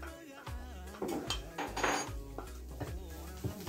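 A utensil stirs half a cup of green onions around a metal pan while Filipino lumpia filling cooks, giving repeated close clinks and scrapes against the pan.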